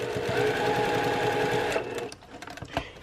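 A sewing machine runs in a fast steady stitch while quilt block pieces are joined, then stops about two seconds in, leaving a few soft handling clicks and taps.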